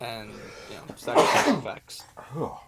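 A single loud sneeze bursts out in the middle of a casual conversation, a sharp explosive blast set between stretches of ordinary speech.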